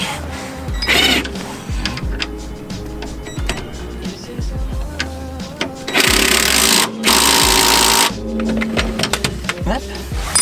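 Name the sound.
power tool screwing bolt on Honda Civic suspension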